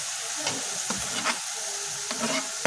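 Spice paste frying with chopped green chillies for a chicken rezala, a soft steady sizzle punctuated by several spoon-stirring scrapes and taps.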